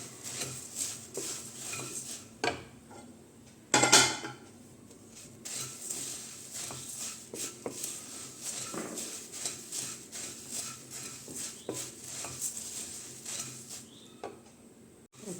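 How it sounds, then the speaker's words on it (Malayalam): Puffed rice is stirred in a pan over a low gas flame, giving a faint, continuous dry rustle broken by light scraping ticks and one louder knock. "ഇനി ഒന്ന് ഇളക്കി കൊടുക്കാം ഗ്യാസ് ചൂടായ ചെറുതീയിലിട്ടൊന്ന് ഇളക്കി കൊടുക്കാം"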